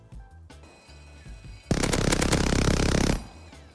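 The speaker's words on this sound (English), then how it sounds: "I'm so skeptical of this minigun, dude." A minigun in the survival game Rust fires one sustained, dense burst of about a second and a half, loud and close, cutting in abruptly after quieter background music and stopping just as sharply.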